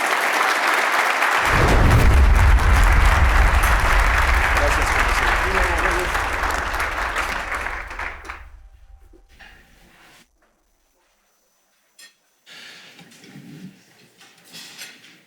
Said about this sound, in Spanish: les pido un aplauso para nuestro speaker de esta mañana